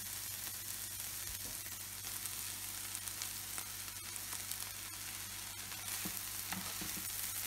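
Rice sizzles and crackles steadily in a hot pan while being stir-fried for egg fried rice, a dense continuous frying hiss with scattered pops and scraping stirs, close and without speech.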